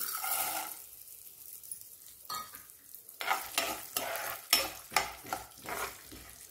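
Chana dal and peanuts frying in hot oil with mustard and cumin seeds for South Indian lemon rava pulihora, heard as a steady hiss with repeated stirring scrapes growing louder in the second half, no talking.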